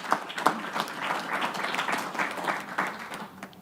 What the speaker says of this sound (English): Let's give him a round of applause for his work on justice.